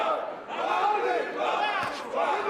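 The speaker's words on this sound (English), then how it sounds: "The crowd trying to urge Isroil Madrimov on." A boxing crowd roars and chants to urge a fighter on, a loud continuous wall of voices that swells in waves throughout.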